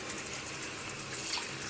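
Tap water runs steadily into a bowl for washing raw chicken thighs in a kitchen sink, a continuous close splashing hiss with no talk.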